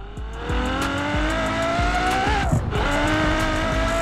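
An all-wheel-drive Ferrari races in Forza Horizon 4, its engine revving loud and close with rising pitch through the gears, briefly dipping on a shift before climbing again, with rhythmic thumps and tire noise beneath.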